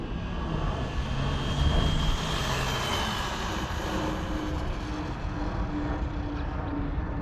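A Traxxas Bandit RC car on a LiPo battery with a taller pinion gear makes a high-speed run, giving a loud, steady, high-pitched motor whine and drone for the whole stretch.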